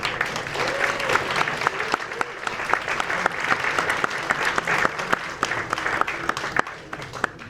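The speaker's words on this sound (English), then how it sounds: "give a round of applause to all the Quam DC volunteers who put on this event" A crowd at a town hall meeting applauds steadily, dense clapping from many hands that holds at a fairly loud level throughout.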